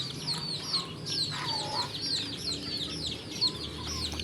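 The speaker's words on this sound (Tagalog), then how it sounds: "Pinapakain po natin ang ating mga manok." Backyard chickens clucking busily while being fed in the morning, overlapping close clucks and short squawks from several birds over a quiet rural background.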